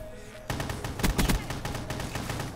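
Rapid gunfire in a shooter video game, bursts of shots crackling close and loud over a steady game-sound bed, with heavier clustered shots midway through.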